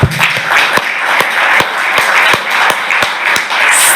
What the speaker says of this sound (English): I'm going to give these two countries and all the countries that are struggling a big round of applause